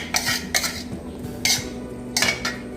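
A spoon scrapes and knocks around a bowl in about half a dozen quick mixing strokes, mixing cooked prawns into vada batter, with short pauses between them.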